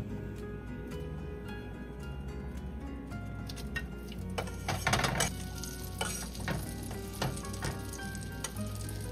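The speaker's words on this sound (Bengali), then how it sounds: "একটু লঙ্কা আর এগুলোকে হালকা একটু ফ্রাই করব।" Chillies and vegetables frying in a pan, a steady close sizzle with bursts of stirring and crackle that swell in the middle, no talking.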